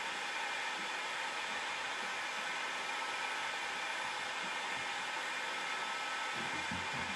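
A heat gun blows hot air while bending Wood U Bend moulding for an old oak bar shelf, a steady broadband whoosh holding at even level throughout with no pauses.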